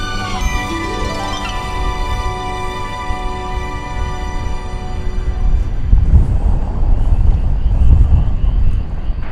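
A Boeing 777-200LR airliner at DFW International Airport in Texas at night, a loud sustained jet engine roar with a rising whine early on, thickening into broad rumbling wind-blown noise toward the end.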